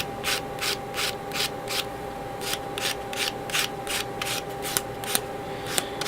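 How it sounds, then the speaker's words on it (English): Plastic parts from a 1/100 Master Grade Gundam model kit being sanded by hand, a quick run of rhythmic scratchy strokes repeated over and over, close up with no voices. "Then I gotta sand these parts here so they're nice and even."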